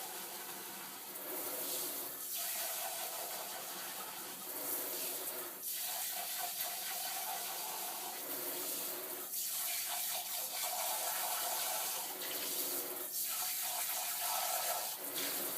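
Water runs from a tap during cat grooming as shampoo residue is rinsed out of a cup, a steady splashing stream broken every few seconds by fuller gushes as the cup fills and empties.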